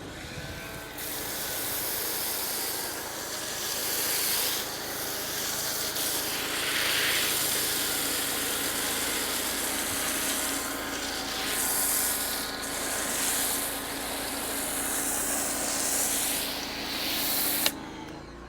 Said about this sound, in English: Let's go ahead and foam up the vehicle.